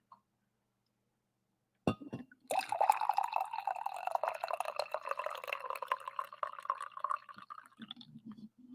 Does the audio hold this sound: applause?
no